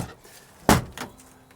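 A single heavy metal clunk as the sticking door of an old Ford F700 truck is pulled open, followed by a lighter rattle and quiet.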